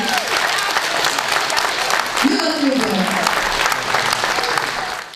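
Audience applause for a folk choir at a Ukrainian award ceremony, a dense, steady wash of clapping from a crowd that continues throughout, with a voice briefly audible over it partway through.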